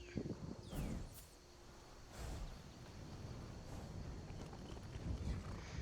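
A horse's hooves walking in Skyrim, soft rhythmic clip-clop steps at a steady pace, close and quiet, alongside a few rustling sounds.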